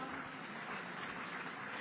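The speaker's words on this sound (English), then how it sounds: "let's give all these brave Nigerians a very loud round of applause" Brief, faint wash of audience applause at a World AIDS Day commemoration event in Abuja, steady and distant-sounding with no clear voices.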